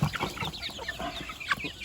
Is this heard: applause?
no